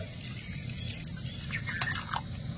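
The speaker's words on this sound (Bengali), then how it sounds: "এবার আমি দিয়ে দেবো জল।" Water poured into a pan of sugar and cardamom pods to make syrup, a soft continuous trickling and gentle splash close by with faint clinks, no voices.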